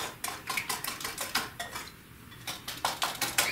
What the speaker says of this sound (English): I'm gonna take a whisk, my handy dandy whisk, and I'm gonna mix all of this together